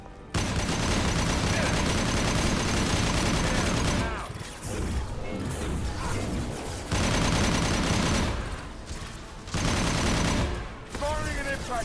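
Dense bursts of weapon fire from Mass Effect Legendary Edition 2, an impact shot among rapid volleys, loud and sustained in stretches broken by brief quieter gaps.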